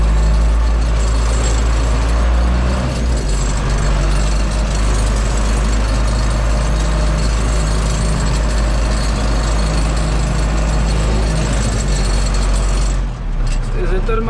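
A loud, rumbling Zetor Crystal 8011 tractor engine runs continuously and close, its low droning hum steady throughout with voices talking over it.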